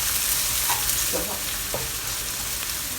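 Thinly sliced shallots stir-fry in oil over low heat, a steady close sizzle with faint scraping of a spatula stirring through the pan, no voices.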